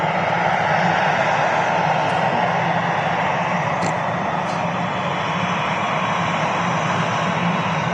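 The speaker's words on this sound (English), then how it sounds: "we got the Pegasus 737-800 just taxiing past the Runway Visitor Park" A Pegasus Boeing 737-800 jet taxis past a runway viewing park at Manchester Airport, its engines giving a steady, loud, broadband roar that holds evenly throughout with no talking.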